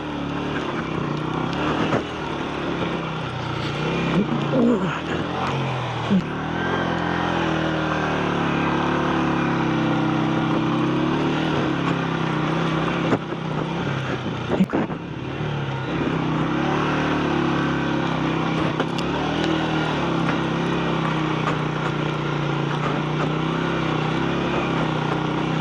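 A motorbike grinds along a rough, dangerous mountain track on the way to Nanga Parbat in Pakistan, its engine droning steadily and loudly throughout with bumps and rattles from the jolting ride.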